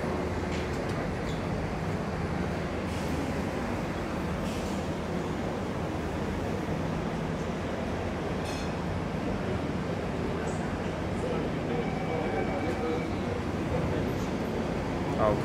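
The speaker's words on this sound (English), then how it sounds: "Just needs to wait till this train over here departs." A metro train pulls out of a station in Singapore, a steady low rumble and hiss of rolling stock with faint tonal whine rising near the end, continuous and fairly distant.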